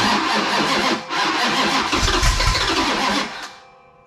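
A 440 six-pack V8 cranks and fires, running loud and ragged up close with a short stumble near the start, then cuts out and fades to quiet just before the end.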